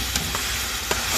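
Food stirred in a hot pan for a chicken white stew, a spoon scraping and clinking a couple of times over a steady bright sizzle, up close and brief.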